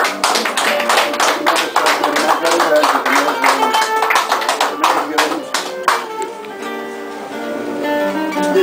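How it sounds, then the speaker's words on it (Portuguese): Audience applause at a Porto tribute to the poet Aires dos Santos, a dense run of claps and taps that thins out toward the end, with no voices over it. "Uma salva de palmas."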